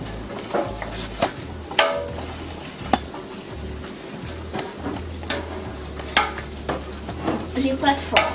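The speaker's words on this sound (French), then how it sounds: "Les tomates, voilà, je les ai coupées et je vais les mettre. On va mélanger un petit peu." Chopped tomatoes sizzle in a hot pan for charchoura chaouia while a utensil stirs them, with a steady low frying hiss broken by repeated close scraping and clinking against the pan.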